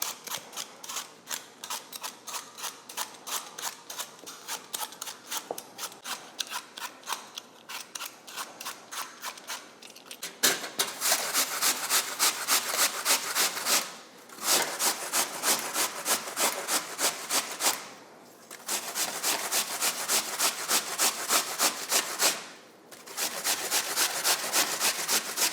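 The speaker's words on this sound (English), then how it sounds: "I have 2 Granny Smith apples here that I have washed, but I am gonna peel them" Granny Smith apples being peeled, a steady run of rapid rhythmic scraping strokes close up, lighter at first and then louder and denser, broken by a few brief pauses.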